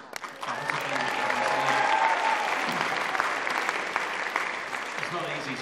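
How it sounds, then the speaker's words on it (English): Sustained applause and cheering from an audience at a school talent show, dense and lively throughout, with crowd voices mixed in. "can we just get a round of applause for every single"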